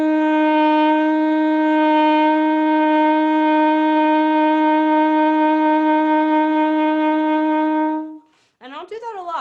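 A horn plays a sustained warm-up tone, a rich, harmonically full note held steadily for about eight seconds, then breaks off into short rising and falling scoops with wavering vibrato.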